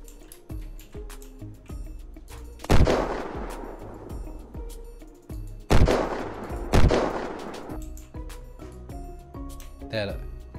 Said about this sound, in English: The guy's shooting up there. I see the guy shooting up there.